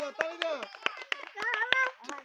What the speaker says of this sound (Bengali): তার জন্য আরেকবার করতালি